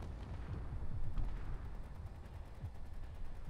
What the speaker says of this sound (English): Eden's Hope is in range and has opened fire.